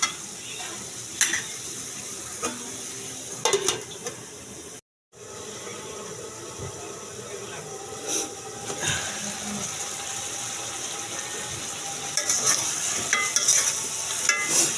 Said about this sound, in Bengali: আমি ভালো করে নাড়াচাড়া করে দেবো।